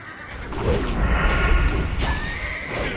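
Felsteed horses whinny in a fantasy video game battle, a loud neigh rising over heavy rumbling combat noise, followed by another shorter whinny.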